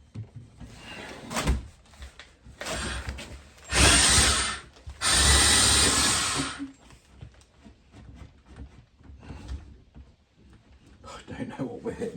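An SDS drill roars through wood into a garage wall in two long, loud bursts with shorter runs around them, and people talk nearby between the drilling.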